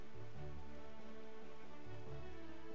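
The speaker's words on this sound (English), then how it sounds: "I'm not ready for rain." Soft, steady rain in The Legend of Zelda: The Wind Waker, a faint even hiss under low droning game music, with no voices.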